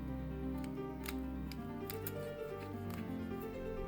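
An aloe vera leaf is cut at a downward angle with scissors, a few faint, sharp snips and clicks over a low steady hum.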